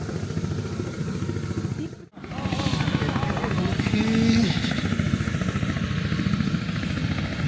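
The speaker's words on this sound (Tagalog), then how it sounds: "Helicopter!" A helicopter on a scenic ride over Queenstown, New Zealand, roars with a loud, steady engine and rotor drone, dropping out briefly for a moment before resuming, while people talk under the noise.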